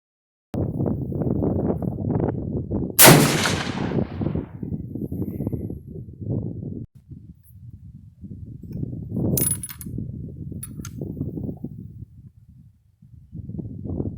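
An M38 Mosin Nagant 7.62x54R rifle fires a single handloaded round outdoors, a sharp loud crack with a short decaying tail, followed by bolt and mechanism clicks over a steady background of wind and movement.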